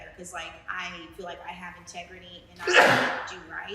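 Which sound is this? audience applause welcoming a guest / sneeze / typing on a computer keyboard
sneeze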